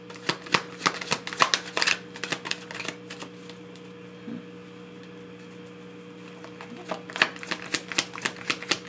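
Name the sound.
shuffling tarot cards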